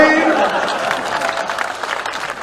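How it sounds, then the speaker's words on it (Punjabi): A crowd at a political rally breaks into clapping and cheering, a dense wash of applause that starts strong and slowly thins out, with voices mixed in. "ਠੋਕੋ ਠੋਕੋ ਤਾੜੀ ਠੋਕੋ"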